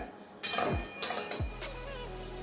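A metal lid lifted off a cooking pot of boiling food: two close metallic clanks with a short ringing tail, then a quiet room.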